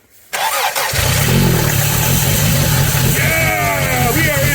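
A 1986 Toyota Tercel wagon, abandoned and fed starting fluid, cranks and catches after a brief quiet, then its engine runs loud and rough up close while voices call out over it.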